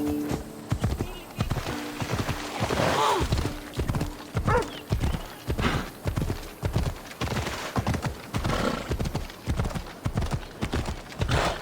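Horse hooves clip-clop in a steady galloping rhythm in the video game Assassin's Creed Odyssey, close and prominent, with a brief whinny and some voices talking over it.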